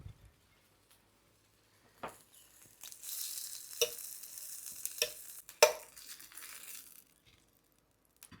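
Hot dogs sizzle softly in a small frying pan, with scattered scraping and stirring clatters and a brief burst of louder frying in the middle; no one speaks.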